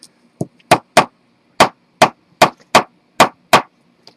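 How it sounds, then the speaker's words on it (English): A small hammer strikes a metal brad about ten times in a quick, fairly steady rhythm, each hit sharp, close and loud, with short silences between. "that little hammer I just whacked with"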